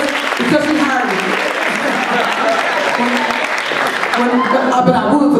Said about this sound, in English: Clap for Carolyn